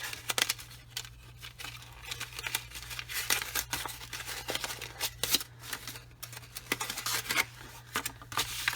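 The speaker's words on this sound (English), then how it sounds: "Crumpling it up." Close, crackly crumpling of Starstruck Rinea foiled paper in uneven bursts, crinkling loudly then easing off, with no talking.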